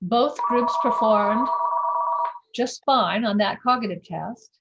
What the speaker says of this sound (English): I apologize for the ringing phone.